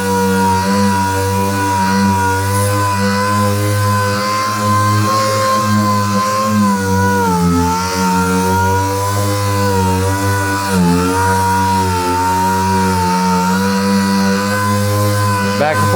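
Sanding the clear coat on an MGA car's paint produces a loud, steady droning whine that runs unbroken throughout, its pitch wavering slightly as the pressure shifts.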